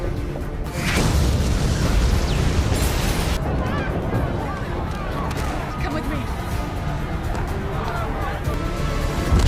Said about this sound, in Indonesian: Kirkan tidak sengaja memergoki anak buah Four sedang mengaktifkan peledak